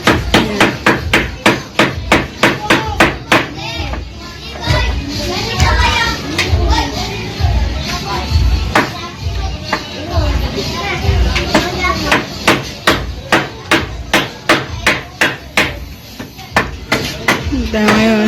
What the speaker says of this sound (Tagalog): Construction po sila dun sa labas.